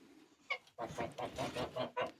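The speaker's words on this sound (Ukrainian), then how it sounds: "Тут в мене сидить індичка, висиджує. Індичі яйця." A broody turkey hen sitting on turkey eggs gives a short run of soft, close clucks and low grunting calls in an uneven rhythm, with no speech.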